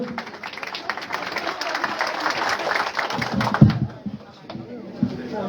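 An audience claps at a family health centre opening ceremony as a local businessman is welcomed to speak, with clapping mixed with crowd noise and some voices before it dies down.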